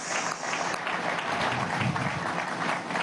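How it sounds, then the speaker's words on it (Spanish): A crowd applauds steadily at a televised political event, a dense, even wash of clapping that holds for the whole stretch with no break. "un aplauso para Rodolfo Sanz."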